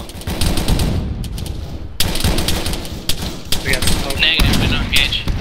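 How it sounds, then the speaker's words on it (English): M240 machine gun firing in ARMA 3, sustained loud bursts with rapid repeated reports, mixed with other gunfire and voices talking over it. "240, start firing at those tires"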